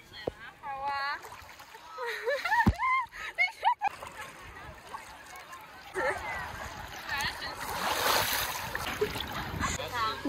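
A boat crosses the water toward Lido Island in Venice, with splashing and sloshing beneath a motor drone that builds in the second half, while voices and some music carry over it early on.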